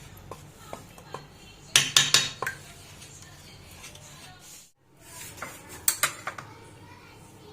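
A spoon clinks and scrapes against a metal pot while rabri milk is mixed, with clusters of sharp close taps separated by quieter gaps.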